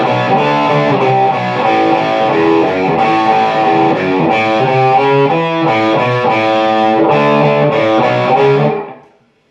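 A distorted electric guitar rings out the first chorus measure of a song, strummed chords loud and sustained near the mic, then cut off and fading at the end.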